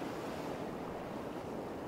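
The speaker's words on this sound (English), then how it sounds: "There's the ocean." Ocean surf rolls steadily as a broad, continuous wash of waves, fairly loud and close, with wind buffeting the microphone throughout and no talking.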